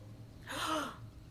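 Characters in the video game Tiny Tina's Wonderlands give a single short, quiet gasp, a brief breathy intake standing alone.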